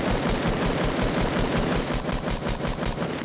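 Rapid assault rifle fire in Fortnite shooting down a player's build, a loud, continuous burst of evenly spaced shots that runs the whole length without pause.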